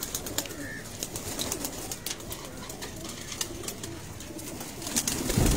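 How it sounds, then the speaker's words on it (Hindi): Black-faced pigeons coo softly amid a busy pigeon loft in Lyari, Karachi, with scattered sharp ticks and wing flutters and a steady background hiss, growing louder at the end. "ये काले मुंह वाले कबूतर जो है"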